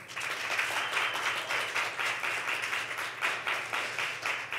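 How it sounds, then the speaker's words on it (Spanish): Applause from a church congregation, a steady, moderately loud patter of many hands clapping in uneven waves, with no talking over it. "Que le da un aplauso al Señor."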